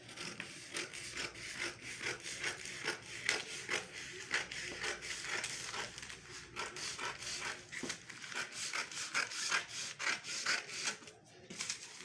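Scissors cut out a skirt from stretchy fabric, giving soft, close, repeated rasping and snipping strokes in an uneven rhythm over a dozen seconds, with no talking.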